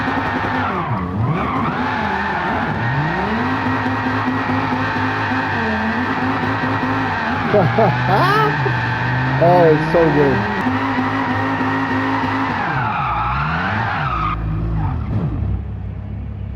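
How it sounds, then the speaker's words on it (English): A 2013 Dodge Viper GTS does a burnout in Gran Turismo 7 among other race cars, with traction control off. A loud, sustained engine roar runs under shrill, wavering tire squeal, and a man makes a brief exclamation. "I'm gonna do a little burnout here with all these fellow racers here"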